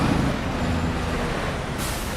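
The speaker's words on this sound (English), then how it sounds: "oh, this truck's very loud. It's the loudest thing they have." A loud, steady truck engine in Farming Simulator 25 drones with a low rumble and a brief hiss near the start, continuous throughout with no talking.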